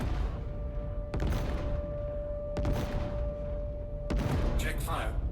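Spaceship guns firing on an Idris capital ship in Star Citizen: a constant low engine drone with a steady tone, broken by several heavy thumping shot impacts and crackling bursts, with a voice talking over it.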